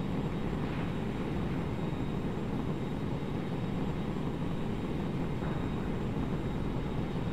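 Steady, loud roar of a MiG-9 jet aircraft engine in a flight video game, a continuous broadband rumble with no pauses and no talk over it.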